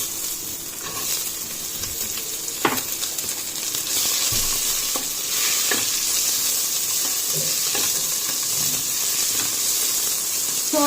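Onions sautéing in a pan for an Indian chicken curry: a steady, close sizzle and hiss with occasional soft clicks of stirring, no talk.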